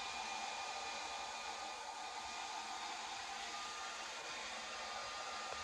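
A hair dryer blows steady, even heat over bleached hair, a constant close whir with no pauses and no voices.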